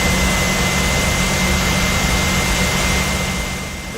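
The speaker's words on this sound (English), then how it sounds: "We have a good engine start." Loud, steady whine and roar of a PMDG 737 jet engine running after start in Microsoft Flight Simulator, a constant high tone over deep rumble, easing slightly at the end.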